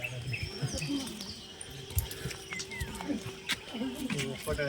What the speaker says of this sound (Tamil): இந்த பறவைகளோட சத்தம் அதெல்லாம் கேட்டுகிட்டே நீங்கள் நடந்து போகிறதுக்கு ரொம்ப அமைதியாக இருந்தது.